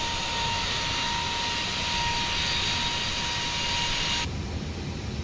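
Simulated jet engines of the IniBuilds A320neo in Microsoft Flight Simulator give a loud, steady, continuous roar that dips slightly near the end, with no voices.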